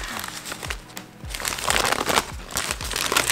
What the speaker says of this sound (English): to unveil the Whopper, you have to unwrap it